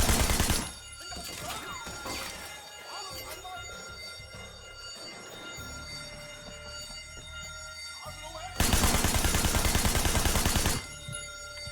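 Loud bursts of rapid automatic gunfire in the video game Sleeping Dogs, hammering at the start and again near the end, with dense crashing game sound and music in between.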